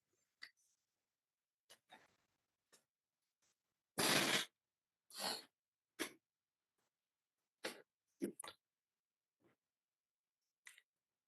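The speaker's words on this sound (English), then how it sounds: "I've got to blow my nose." Blowing into a tissue, a short burst of loud, broadband honking around the middle, with scattered soft sniffs, rustles and small noises before and after in a quiet room.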